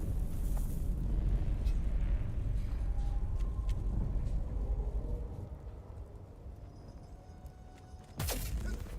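A grenade detonates in a video game firefight, a sharp, loud blast arriving near the end after a stretch of rumbling game ambience and scattered effects.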